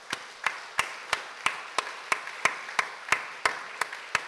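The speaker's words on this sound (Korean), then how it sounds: "우리 인사드릴 때 큰 박수 보내도록 하겠습니다" A church congregation at a Sunday service scholarship ceremony claps in steady unison, about three even, crisp claps per second, moderately loud in a reverberant hall with no talking.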